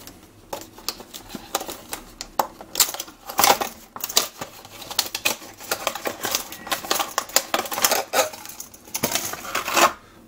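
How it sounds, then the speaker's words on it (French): Packaging for a NEXTORCH TA30 tactical flashlight is opened by hand, with irregular close rustles, taps, clicks and crinkling of plastic and cardboard scattered across the whole stretch, without speech. "Procédons sans plus tarder au déballage."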